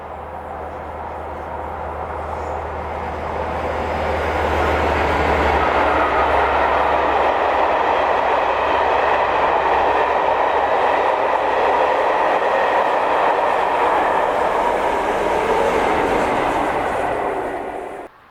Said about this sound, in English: 57313 Scarborough Castle and 47813 in Toppentail formation, the pair passed the classic location of Cockwood Harbour